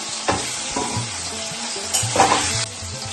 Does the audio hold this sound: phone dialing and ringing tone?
no